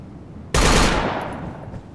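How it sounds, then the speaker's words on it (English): A single sudden burst of gunfire in Operation Flashpoint: Dragon Rising, a loud sharp crack followed by a rolling echo that slowly decays over a second or so. "Shots fired."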